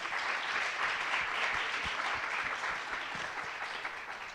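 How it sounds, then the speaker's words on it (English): A panel-event audience applauds its panelists with steady, moderately distant clapping that carries on evenly throughout without a break. "Let's give our panelists a round of applause."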